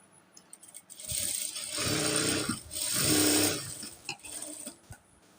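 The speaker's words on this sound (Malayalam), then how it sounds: "എന്നിട്ട് ഇതിലൂടെ സ്റ്റിച്ച് ചെയ്യാം" A sewing machine stitches a nightie in two steady bursts of rapid mechanical whirring and rattling, close and clear, separated by short pauses and light handling clicks.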